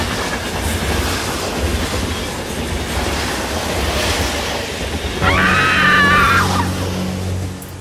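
A train car rolls past with steady rumbling wheel noise, and near the end a high, sustained scream rises over the roar before both fade.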